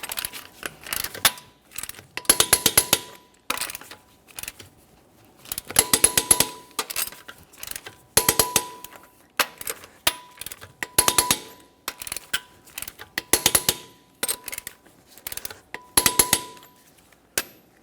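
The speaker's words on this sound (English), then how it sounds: "We're going to torque both side front wheels to 140 in a crisscross manner" Repeated clicking ratchet bursts from a wrench torquing the front wheel lug nuts of a 2017-2024 GMC Acadia, coming in short clustered rounds with pauses between, close and fairly loud with no talking.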